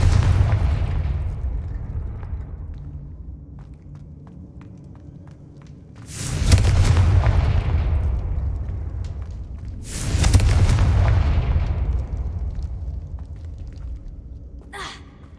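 Two loud Confringo fire spell explosions in the Hogwarts Legacy video game on PS5, each a sudden booming burst that fades slowly over a few seconds, set against a quiet rumbling background.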